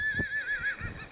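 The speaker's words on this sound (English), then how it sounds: "the wild horses of North Carolina" A wild horse on North Carolina's Outer Banks whinnies in a long, wavering neigh of moderate loudness, heard alone outdoors with faint low rumble beneath.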